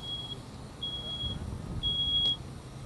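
A smoke detector's thin, high electronic tone chirps intermittently, fairly faint, over a low rumbling roar of a working fire in a sprinkler demonstration.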